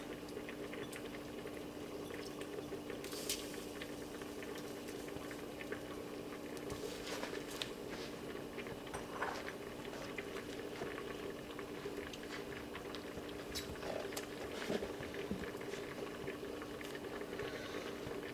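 A pot of rice and khichdi mixture simmering on the stove, a faint continuous bubbling hum with scattered soft pops and patters, quiet and steady throughout.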